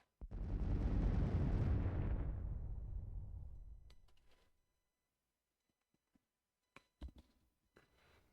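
Bombing-raid explosions in the card game KARDS: one heavy, rumbling blast that swells and fades over about four seconds, followed by a few faint, sharp interface clicks and thuds.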